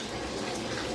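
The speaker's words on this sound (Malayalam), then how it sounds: "കുടംപുളിയും ഉപ്പുമിട്ട വെള്ളം ഒഴിച്ചു കൊടുക്കാം" Water mixed with kudampuli and salt poured into a pan for a fish head curry, a steady close gushing splash that continues throughout.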